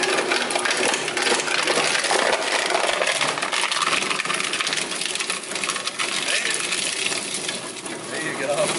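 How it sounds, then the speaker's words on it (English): A plastic shredder grinds plastic caps, giving a loud, continuous crunching and rattling clatter close by, with no pause from start to end. "we're shredding plastic caps right here"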